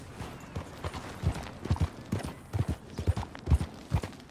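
Horse hooves clip-clop in Red Dead Online, a steady walking rhythm of soft, close thuds over a quiet game background.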